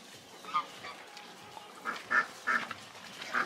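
A duck quacks in short separate bursts, a couple of faint calls early, then louder quacks clustered near the end, set against quiet outdoor background without speech.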